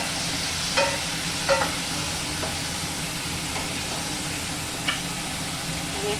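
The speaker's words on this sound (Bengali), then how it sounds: "এখন আমি এখানে অল্প গরম জল দিয়ে দিব।" Hot water poured into frying spice masala for a duck egg curry sets off a steady, dense sizzle with a few soft knocks of a utensil against the pan, close and continuous without talking.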